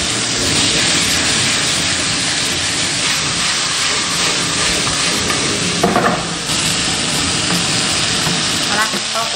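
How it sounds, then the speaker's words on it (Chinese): Chinese yam slices tossed in a wok over high heat with salt, sugar and chicken bouillon, giving a loud continuous sizzle and rustle with steady scraping and clinks of the spatula. "开大火翻炒1分钟"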